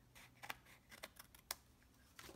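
Scissors snip through card stock in a handful of sharp, close cuts spaced unevenly, quiet against a faint background hum.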